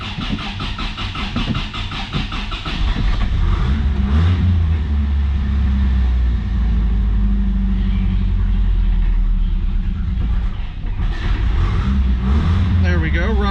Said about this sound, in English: Let me go ahead and fire this up and then we'll take a listen to the motor.